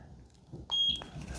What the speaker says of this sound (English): Until you hear the beep.